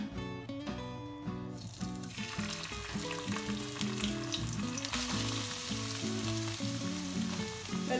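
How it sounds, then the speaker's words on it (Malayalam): Crushed ginger and garlic frying in coconut oil for a Kerala-style beef liver roast give off a steady, close sizzle that builds after the first seconds and runs continuously under background music. "ഇതിലേക്ക് ചതച്ച് വെച്ചിരിക്കുന്ന ഇഞ്ചിയും വെളുത്തുള്ളിയും ചേർത്ത് കൊടുക്കാം."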